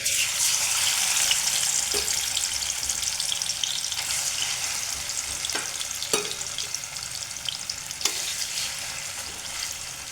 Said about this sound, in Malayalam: സോയാബീന് മാത്രം അതിലിട്ട് നന്നായി വറുത്തെടുക്കുക